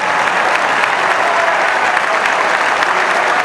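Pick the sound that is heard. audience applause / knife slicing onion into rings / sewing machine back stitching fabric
audience applause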